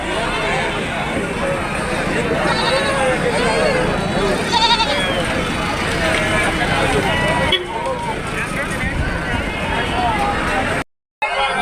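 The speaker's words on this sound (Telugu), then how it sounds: "చూడొచ్చు బాగానే ఉండే మేకలు ఇంకో సైజు మేకలు చూపిస్తాను చూడండి" Goats bleat repeatedly at a busy weekly livestock market in Prakasam district, with crowd hubbub and voices talking throughout.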